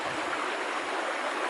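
A river rushes through Bear Canyon in Soledad Canyon as a constant broadband wash of flowing water, steady and fairly loud, with no voices.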